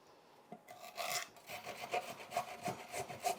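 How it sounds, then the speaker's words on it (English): A large carrot is shredded on the large side of a box grater in a kitchen, producing a close series of rhythmic rasping strokes that grow steadier after a quiet start. "We're just grating it on a box grater."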